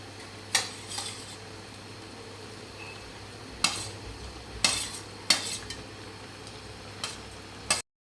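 Tengra fish being added to a thin curry with eggplant in a pan, with sharp intermittent clinks of a utensil against the pan over a low steady simmer, several distinct knocks spaced irregularly.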